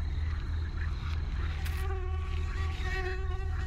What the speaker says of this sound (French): Casse-toi le moustique.